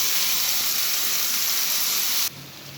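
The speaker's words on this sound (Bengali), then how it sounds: "তো দেখো বন্ধুরা, আমাদের মটনটা কষানো চলছে।" Marinated mutton sautéed in hot oil for mutton kosha with potatoes, a loud, steady steamy sizzle that cuts off abruptly near the end, with no speech.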